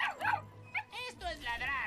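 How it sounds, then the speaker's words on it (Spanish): Several Dalmatian dogs give weak, high yips and whimpering little barks in short bursts, close by and mixed in with talking voices. "¿A eso le llamas ladrar?"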